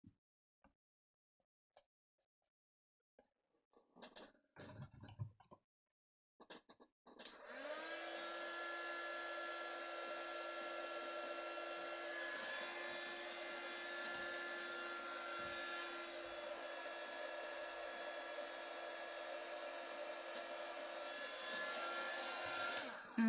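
Steady loud whirring blow of a heat gun drying condensation inside a plastic-lined bubble envelope, starting after a few faint handling knocks and running continuously close by with no talking.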